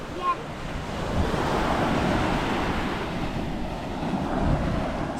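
Sea waves wash continuously onto the shore at a seaside beach, a steady, full roar of surf with wind buffeting the microphone and no clear talk over it.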